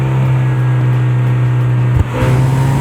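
A Mazda MX5 engine driving on a mountain road, a loud steady drone from inside the car with a brief dip and then a rising pitch as it accelerates.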